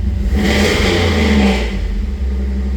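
An LS-swapped car engine revs hard inside a closed garage, a loud, close, sustained rising roar that holds steady before easing slightly, with no talking.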